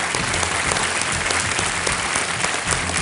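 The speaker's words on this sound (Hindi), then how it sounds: "तालियों के साथ इनका स्वागत" A television quiz show studio audience claps loudly and continuously to welcome a contestant, a thick, even roar of applause with no voices over it.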